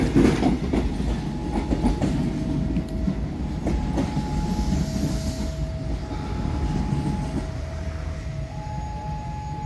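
An INKA-built KFW train rolls past at Lempuyangan station, a steady loud rumble with wheel clatter and a thin metallic whine running throughout, no voices.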